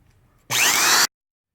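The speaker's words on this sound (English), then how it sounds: "I wanna use the rotary saw" A rotary saw bites into hard birch plywood on a surfboard with an EPS foam core, a sudden loud high whine that holds steady for about half a second and then cuts off abruptly into silence.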